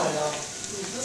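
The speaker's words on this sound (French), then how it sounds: "L'oignon revenu dans du beurre avec de la cannelle, du sel, du poivre." Onion frying in butter with cinnamon, salt and pepper gives a steady, close, dense sizzle throughout, with a faint voice in the background.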